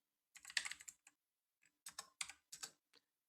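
Short bursts of typing on a computer keyboard at a command prompt, several quick clusters of crisp key taps separated by pauses, close and clean with no talk.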